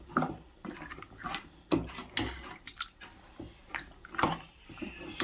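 Water is poured into a country chicken masala mixture and stirred, giving irregular splashing, trickling and dripping bursts, soft and close, without talk.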